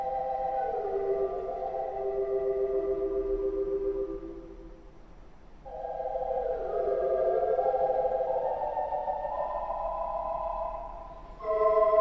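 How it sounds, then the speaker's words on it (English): A 1928 Wurlitzer theater pipe organ at the Fox Theatre, St. Louis, plays sustained, wavering chords with tremulants on, a strong tremolo shimmer, the notes gliding between harmonies, with a brief pause midway. "if you turn the trems on, then you get the sound everybody thinks of as a theater organ sound"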